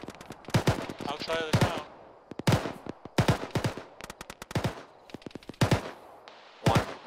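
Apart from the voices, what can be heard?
gunfire in military video game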